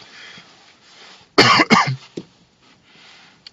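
A few sharp, loud coughs in quick succession, standing out against a quiet background with no talking.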